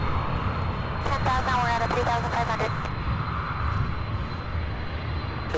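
An airliner arriving out of Ontario to land at SDF, a steady broadband engine roar that holds throughout, with a brief tonal whine rising in the middle and a voice in the background.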